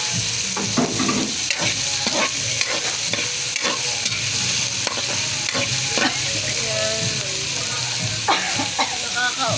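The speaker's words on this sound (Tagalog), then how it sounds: "Lalagay ko na po yung pork." Pork, sliced and already softened, hitting a hot pan with spicy chili while cooking laing, a loud continuous sizzle with repeated scraping strokes of a spatula stirring it; a faint voice briefly under the frying.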